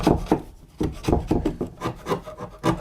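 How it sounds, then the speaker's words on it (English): Chisel scraping and chipping plaster from a wall corner while a wooden worktop is fitted, a steady run of close, rough rasping strokes in an uneven rhythm with no talking. "chisel out a little bit of the plaster here"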